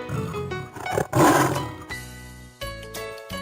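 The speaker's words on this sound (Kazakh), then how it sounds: "Жолбарыс." A tiger gives a loud, rough roar that swells for about a second, followed by a few lower, shorter growling bursts.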